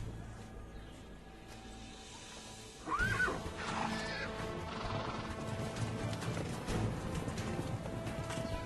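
Horses whinny and neigh amid a medieval knights' jousting scene, a sharp neigh bursting out near three seconds over a dense, busy background of clatter and crowd-like noise that persists throughout.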